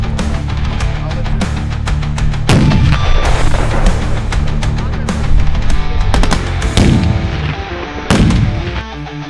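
Several loud explosive booms from training detonations with long rumbling decays, spaced a few seconds apart over a noisy outdoor background.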